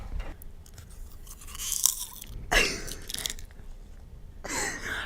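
Close, crunchy chewing of popcorn, bursts of crackly bites separated by quieter pauses with faint mouth sounds.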